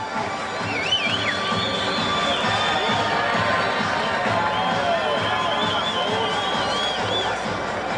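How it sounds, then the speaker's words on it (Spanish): A large boxing crowd roars and cheers continuously for a fighter, with whistles and shouts rising above the dense, steady din of an arena. "escuche la ovación de este peleador"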